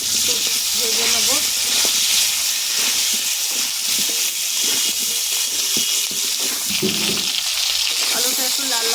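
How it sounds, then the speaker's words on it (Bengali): Potato pieces fry in a pan with salt and turmeric for a winter-vegetable katla fish curry, making a loud, continuous sizzle with occasional stirring scrapes and clinks close by. "আলুটা একটু লাল লাল করে ভেজে নেব।"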